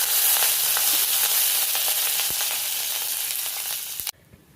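Mustard seeds and asafoetida crackle and sizzle in hot oil, a loud, steady frying hiss with scattered pops that cuts off abruptly near the end, leaving only faint background.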